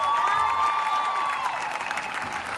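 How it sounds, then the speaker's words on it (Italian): Concert crowd applauding the musicians on an Italian tour, a steady wash of clapping and cheering with a sustained whistle-like tone over it at first, moderately loud throughout. "Vi chiedo un applauso per questi musicisti pazzeschi"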